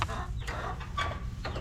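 Chickens on a homestead clucking close by, a steady cluster of short overlapping clucks and murmurs with no talking.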